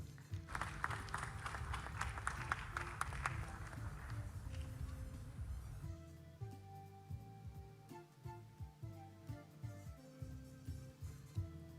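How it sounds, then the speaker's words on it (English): Audience applause at the 29th GJA/KGL Media Awards ceremony, a dense burst of clapping for the first half that gives way to music with a steady beat, with a few scattered claps continuing beneath it. "Shall we welcome him with a big round of applause?"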